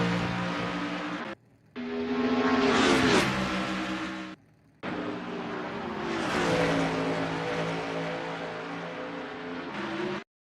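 Stock cars roar past in a NASCAR racing game at Rockingham Speedway, each engine whine rising and falling as it goes by, with short silent cuts between loud close passes and no talking.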